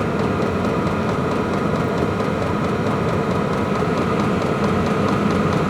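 A diesel heater's fuel pump and fans run fast, a steady loud mechanical drone with a faint rapid ticking pulse underneath, close and continuous for the whole stretch, with no talk.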